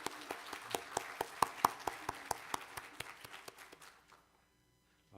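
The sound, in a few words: congregation applauding in welcome at church service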